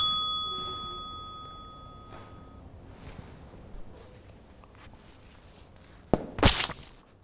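A single bell rings clearly near the start, its bright tone lingering and fading over a couple of seconds, followed by quiet room noise, faint knocks and a sharp burst of noise near the end.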